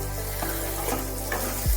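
Brinjal (eggplant) slices frying in a pan, a steady close sizzle with a few soft stirring scrapes and a brief louder clatter at the end.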